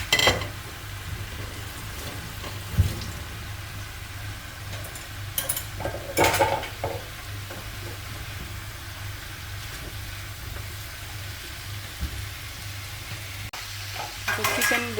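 Vegetables and boiled chicken frying in a pan for a vegetable roll, with a soft continuous sizzle and a few scattered scraping stirs over a low steady hum, close and moderate, with no talking.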